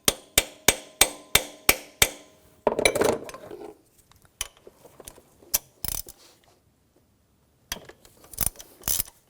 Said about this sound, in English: I'm just going to give it a tap.